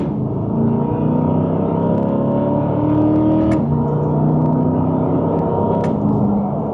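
A Corvette E-Ray engine drones and climbs in pitch as it accelerates hard, a steady loud rumble heard from inside the car, with a brief click partway through.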